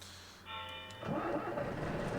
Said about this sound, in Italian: Accendere il motore.